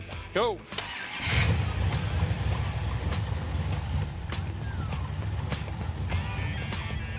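A Plymouth Satellite with a 472 Hemi engine cranks over, fires up and settles into a loud, steady rumbling idle close by, with a brief spoken word just before it catches.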